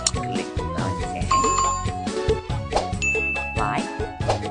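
A bright notification bell dings repeatedly over a busy tinkling, jingling backdrop, loud and close, with chime-like tones ringing out and overlapping through the stretch, with no speech.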